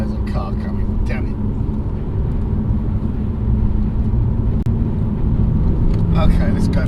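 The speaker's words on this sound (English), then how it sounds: "there's a car coming" An oncoming car passes on a quiet rural English road, heard from inside a BMW 330ci Clubsport whose steady engine and road rumble dominate, the passing swelling slightly toward the end.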